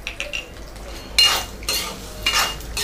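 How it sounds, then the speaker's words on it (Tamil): Puffed rice with peanuts, turmeric and chili powder dry-roasting in a pan, stirred with a metal ladle that gives a few close, loud scraping sweeps and clinks between quieter gaps. "ஒரு 2 மினிட்ஸ் வந்து சிம்மில் வச்சுட்டு நல்லா வறுத்துக்கோங்க."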